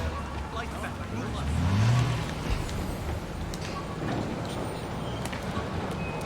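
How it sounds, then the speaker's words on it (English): A car speeding past in Marvel's Spider-Man on PS4, its engine rising to a swell and then fading, over a busy city-game background with voices talking. "I think that the car just ran me over because it was trying to flee."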